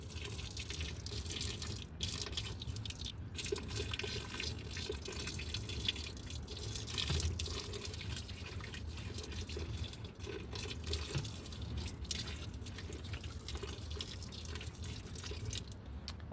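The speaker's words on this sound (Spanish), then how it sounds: "Mientras, pues vamos a bañar con agua caliente." Hot, nearly boiling water pours steadily over the screws of a Maytag washing machine during a repair, a continuous close splashing and trickling stream that runs unbroken for the whole stretch with no talk.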